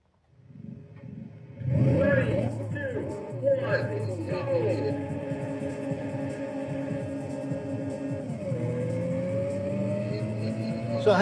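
A car in a 3D street racing video game drives with a steady, droning engine whose revs rise and fall, with brief squeals and a higher whine climbing near the end.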